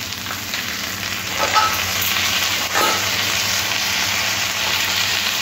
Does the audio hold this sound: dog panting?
no